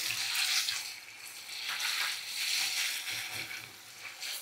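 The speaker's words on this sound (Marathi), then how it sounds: "आता आपण त्याच्यात खवा टाकूयात तुपातच आणि त्याला छान असं भाजून घेऊयात।" Khoa roasts in ghee in a pan for sugar-free carrot halwa, making a soft, steady, close sizzling hiss that swells and fades as it is stirred.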